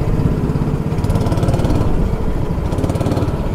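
A small engine at an adventure park in Patna runs loud and close as the accelerator is pressed, with a steady buzzing drone that swells slightly and pulses unevenly over a few seconds.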